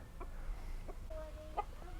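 Backyard homestead chickens clucking softly in short scattered bursts, with a rooster's sustained crowing call cutting in near the end, faint and fairly close against a low steady background.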